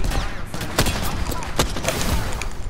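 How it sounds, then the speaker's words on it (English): Rapid bursts of gunfire in the video game Apex Legends, several sharp shots cracking at uneven intervals over a steady background of game noise, loud and close with no talking. "Opening fire on the enemy."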